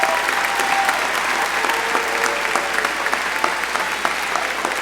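A graduation audience claps steadily and loudly, a dense wash of applause from a large crowd that holds evenly for several seconds.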